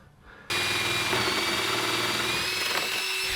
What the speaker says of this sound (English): I'm just drilling through the floor now to run the waste